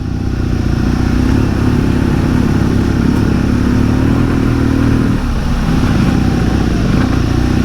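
A Harley-Davidson Pan America adventure motorcycle ridden along an enduro track, its engine a loud, continuous mid-range drone that barely varies throughout, with no voices over it.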